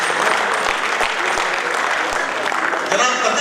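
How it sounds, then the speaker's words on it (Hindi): An audience at a Hindi comic poetry gathering claps steadily throughout, a dense, sustained wash of applause from many hands, with a voice faintly audible underneath. "उनके सम्मान में पर जोरदार तालियां की बनती है।"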